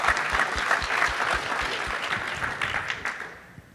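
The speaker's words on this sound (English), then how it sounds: "round of applause for that," Audience at a VMworld 2014 tech conference session gives a brief round of applause, with dense rhythmic clapping and a few louder individual claps that taper off over a few seconds.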